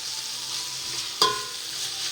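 Softened tomatoes with coriander and mint fry in a pan with a gentle, steady sizzle, and a single sharp clink of a spoon against the pan sounds midway, without voices.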